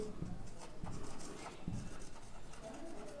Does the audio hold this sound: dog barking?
no